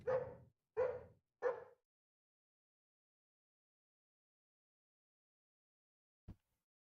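Three sharp dog barks in quick succession inside a spooky forest video game, close and clear against silence, followed by a faint single click much later.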